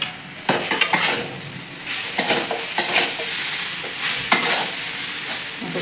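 A spoon stirs soybean bhurji in a pan, with repeated scraping and metal clinks over a constant sizzle, loud and close throughout.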